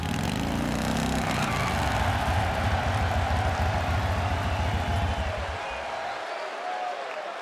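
Arena crowd in the WWE 2K26 wrestling game roars in a sustained, dense wash of cheering, with a low rumbling layer that drops away near the end.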